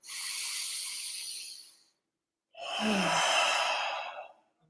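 Two long, deep breaths, a steady airy inhale lasting about two seconds, a short pause, then a fuller exhale with a low throaty edge, close and clear with no talking.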